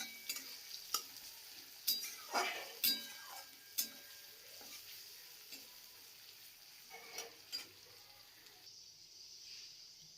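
Sliced onion frying in a pan for fish curry gives a soft crackling sizzle with intermittent scraping clicks from stirring, fairly quiet and close.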